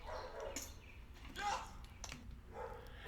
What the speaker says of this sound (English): Sorry for my dogs barking in the background if you can hear them.